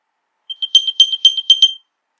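Apple AirPods sounding their Find My alert: a rapid series of bright, high electronic chirps in quick bursts, clear and close, lasting just over a second with no talk.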